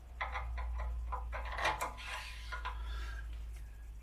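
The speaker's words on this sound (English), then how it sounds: "The first thing to go onto the mandrel is the first blank" A wooden slimline pen blank slides onto a metal pen mandrel, giving a series of short, close scraping and rubbing rasps with a longer grinding scrape in the middle, and no voices.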